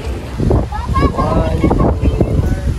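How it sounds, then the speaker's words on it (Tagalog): Wind buffets the microphone in a steady low rumble at an outdoor picnic grove in Tagaytay while a person talks over it throughout. "Mahangin po."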